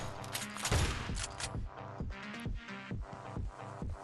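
Gunfire from the mobile battle-royale game Scarfall 2.0 comes as rapid, loud bursts of shots in an uneven rhythm, layered with game effects and no speech.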